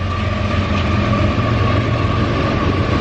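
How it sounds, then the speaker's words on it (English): A train rolls across an overhead bridge on Pigman Road in Angola, New York, giving a steady, loud rumble with a faint tonal hum and no break through the whole stretch. "There's the train."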